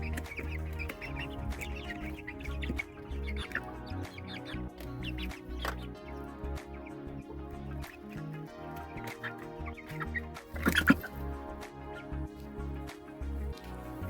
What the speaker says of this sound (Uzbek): Bularimiz bo'lsa katta jo'jalar ko'ryapsizlar.